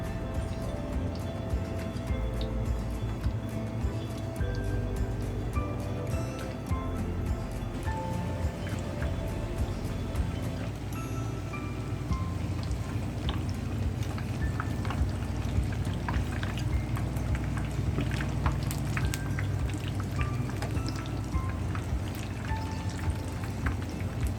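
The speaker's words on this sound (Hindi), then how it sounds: "समोसों को मीडियम आंच पे फ्राई करना है" Samosas deep fry in oil in a pan over medium heat, a dense, steady bubbling sizzle that runs loud and unbroken throughout, with no speech.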